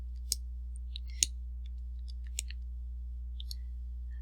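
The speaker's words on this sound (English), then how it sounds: "let me just get my calculator out" Calculator buttons pressed at a desk: a handful of small, sharp plastic clicks spaced irregularly over a few seconds, quiet against a low steady hum, with no talk.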